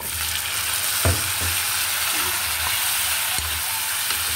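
Potato sautéing in a pan gives a continuous close sizzle, punctuated by a few sharp clacks of a utensil stirring.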